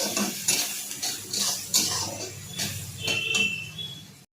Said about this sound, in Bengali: আমি লবণ দিয়ে ভালো করে 10 মিনিট মতো একে নাড়বো, খুব ভালোভাবেই নাড়বো